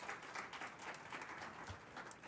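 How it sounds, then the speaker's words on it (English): A conference audience claps in a dense, steady wash of applause, fairly faint and continuous, with no talking over it. "I think they deserve a round of applause."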